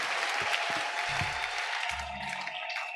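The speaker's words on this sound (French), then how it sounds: "Est-ce que nous pouvons acclamer le Seigneur?" A church congregation claps and cheers for the Lord with a steady wash of applause throughout. A few low vocal shouts or bursts rise from the crowd partway through.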